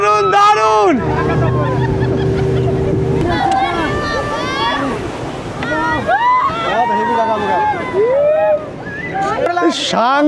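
A boat carries passengers across the water at Maithon Dam, with engine rumble, wind and splashing beneath excited voices chattering and calling out throughout.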